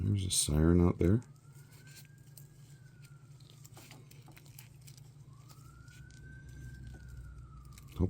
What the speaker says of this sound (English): There's a siren out there.